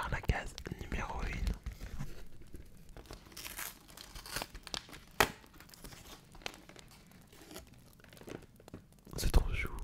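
Paper of the first door on a Christmas Advent calendar is torn and crinkled up close in a quiet ASMR setting, with soft scattered rustles and tears while someone whispers throughout.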